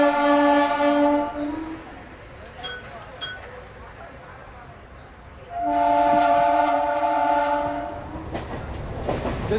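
A passenger train rumbles along while its horn blares twice in long, loud blasts separated by a few seconds of rolling track noise.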